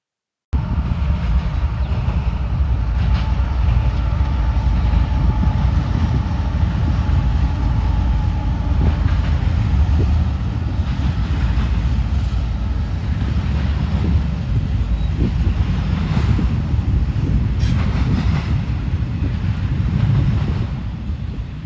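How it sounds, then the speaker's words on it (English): A CSX intermodal freight train rolls east on the B&O line in Ohio, a loud continuous rumble of wheels and cars passing close by, with wind buffeting the microphone throughout. "we have movement on the B&O as an unidentified CSX intermodal rolls east"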